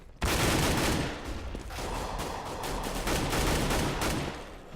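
M4A4 rifle fire in Counter-Strike, a dense, continuous barrage of loud shots that holds for several seconds with little letup.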